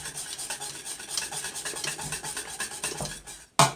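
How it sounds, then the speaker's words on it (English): A spatula scrapes around a bowl of freshly made pastry cream, giving a steady close rasping rub with repeated strokes and a sharper knock near the end. "Scrape the bowl."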